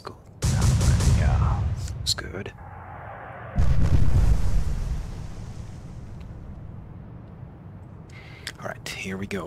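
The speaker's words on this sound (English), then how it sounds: "Explosion." Naval shell explosions in the Atlantic Fleet game, Battle of the River Plate: two heavy booming blasts a few seconds apart, each rumbling and fading, with someone talking quietly between them.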